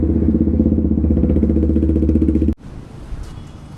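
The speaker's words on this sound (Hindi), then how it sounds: "सो ये है कुछ साउंड आइडल पे, अभी कोल्ड स्टार्ट करी है" A Jawa 42 Bobber motorcycle fitted with a loud aftermarket exhaust idles after a cold start, a close, deep, pulsing rumble that runs steadily, then cuts off abruptly into quiet background.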